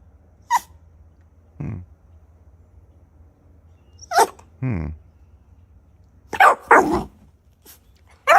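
Dogs at play bark in several short, sharp bursts spread through the stretch, with quiet gaps between volleys and a few yips near the end; no one talks.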